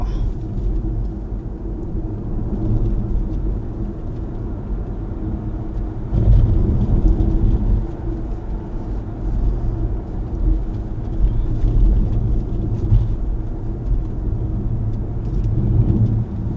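A BYD Sealion 7 Premium electric car climbing a hill, heard from inside the cabin as a constant low road and tyre rumble that swells slightly at moments, with no engine note and no speech.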